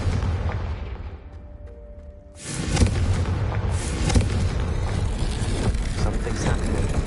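The Confringo blasting spell explodes in a Harry Potter video game, a loud booming rumble that bursts in after a quieter lead-in and keeps roaring with crackling debris to the end.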